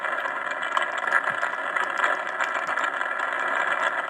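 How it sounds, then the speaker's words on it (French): Rocket lifting off in Minecraft, a steady dense rumbling roar with faint rattling, continuous and moderately loud throughout, no voices. "Et donc voilà la fusée qui décolle."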